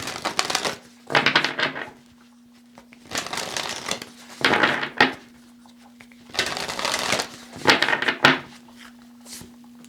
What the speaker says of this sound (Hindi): ओके, कार्ड्स को शफल करते हैं।